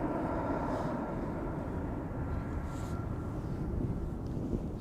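A jet airliner takes off at Amsterdam Schiphol Airport, a loud broad engine roar holding steady throughout, heard from outside with some wind buffeting and no talk.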